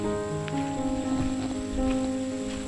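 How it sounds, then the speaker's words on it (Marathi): Light drizzle patters softly and continuously in a forest, a faint even hiss of raindrops with a low steady background hum. "रिमझिम पाऊस चालू झाला आहे."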